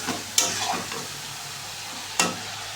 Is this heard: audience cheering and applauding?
no